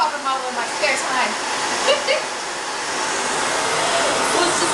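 A Miele S4 Neptune vacuum cleaner runs on its low suction setting, giving a steady close-up whoosh and hum that holds evenly throughout with no talk.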